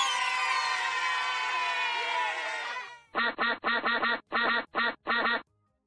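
In a video game, a sustained bright tonal jingle gives way to a quick run of seven clean, synthetic duck quacks in short bursts.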